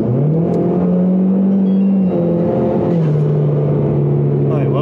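A four-cylinder car engine runs loud after a full gallon of Sea Foam treatment, with a steady droning hum at a constant pitch that dips briefly midway and carries on, close and without talk.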